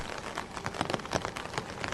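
Night rain in a Bengali horror cartoon falls as a quiet, steady patter of drops on a surface, soft and continuous without any voices.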